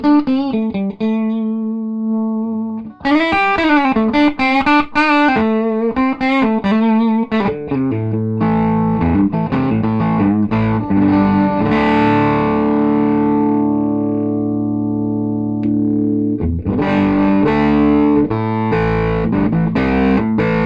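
Electric guitar played through a TightBoost boost pedal with its switch in the higher position, loud, distorted chords and sustained notes ringing continuously with a brief pause near the start.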